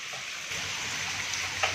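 Rain falls steadily in Gujranwala, a continuous close, even hiss of drops on surfaces with a faint patter underneath and no talk over it.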